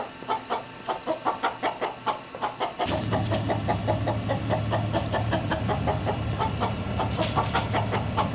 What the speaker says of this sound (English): when you hear this rooster about to have a heart attack and hollering and screaming and crowing